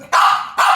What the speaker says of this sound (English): Simply going on barking continuously.